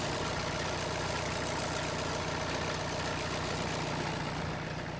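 A cheap tractor's engine runs steadily while driving across an unbroken snowy field, a constant dense rumble with no speech.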